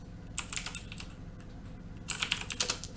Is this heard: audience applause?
no